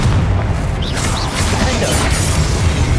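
A Confringo blasting spell explodes in Hogwarts Legacy, a loud, dense roaring burst that fills the whole clip with crackling debris and rumble, and short whooshing streaks cut through it.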